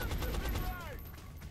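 A short burst of gunfire in XCOM: Enemy Unknown, rapid shots crackling close and loud, with a faint voice underneath.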